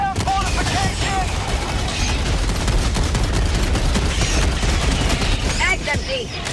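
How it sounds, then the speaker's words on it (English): Rapid gunfire and booming blasts from Helldivers 2 combat, a shotgun among the weapons, fill the whole stretch continuously at close range, with game voices calling out over the dense shooting and explosions. "It's just shooting the shotgun into the hole there."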